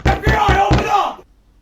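Four heavy, evenly spaced knocks land on a door in the horror game Pyrolyzis, loud and close, followed by a muffled rumble that fades into near silence.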